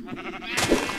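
Sheep in a Minecraft-style video game let out a short, close bleat and then a second brighter one, heard alone.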